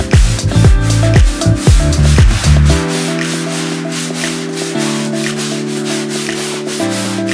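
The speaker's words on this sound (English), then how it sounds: "I'm going to go ahead and sand the walls" Sanding of textured interior walls in a closet being prepared for wallpaper: a steady, close, abrasive rubbing that runs throughout, partly under background music.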